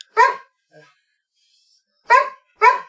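A dog barks in short sharp bursts, chiming in with cartoon dogs: one bark, a faint low whimper, then a pause before two more close, loud barks in quick succession.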